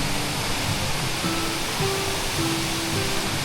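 Loud, steady rush of falling water at Waterfall Gully in Adelaide, South Australia, a dense continuous roar close by with faint tonal hum, no voices.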